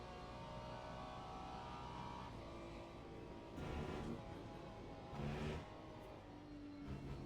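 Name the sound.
race car engine in Le Mans Ultimate video game at Spa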